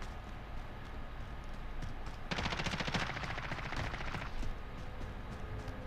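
Rapid automatic gunfire in Warzone, a steady burst of close, loud shots lasting about two seconds, fired to test the weapon's recoil, between quieter stretches of game ambience.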